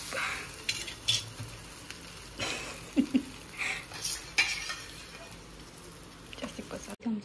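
Food fries in butter in a pan, a soft sizzle running underneath intermittent clinks of utensils and pans being handled at close range.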